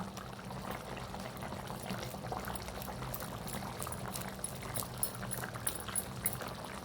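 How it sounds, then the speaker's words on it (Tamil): A pot of thick Tamil paruppu urundai kulambu, a lentil-dumpling curry, simmers quietly, a soft steady bubbling with occasional small pops over low background hiss. "இப்போ குழம்பு நல்லா கொதிச்சு வருது."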